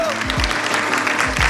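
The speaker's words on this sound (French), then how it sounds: "On applaudit pour nous-mêmes les filles." Audience applause at an underground rap jam session, a continuous wash of clapping with low thumps and voices cheering beneath it.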